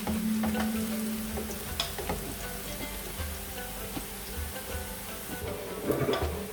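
Onions browning in a frying pan for aloo choliya pulao, a steady close crackling sizzle with scattered sharp pops and ticks, no voices.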